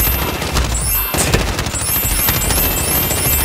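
Rapid automatic gunfire from the Call of Duty: Modern Warfare video game, a dense continuous stream of loud shots with a brief lull near the start, filling the whole stretch.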